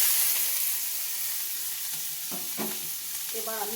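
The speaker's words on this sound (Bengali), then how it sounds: "এবার আমি এটাকে ভালোভাবে ভেজে নেব।" Chopped onion, tomato, capsicum, green chilli and garlic fry in a wok with a constant close sizzle, joined toward the end by a few metallic scrapes and clanks of a spatula stirring.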